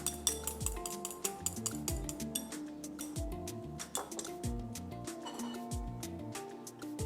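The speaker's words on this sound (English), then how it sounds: "And then let's mix the egg." An egg is beaten in a bowl for sukiyaki, with quick, irregular clinks and taps of utensil against the bowl set against a constant layer of background music, close and moderately loud.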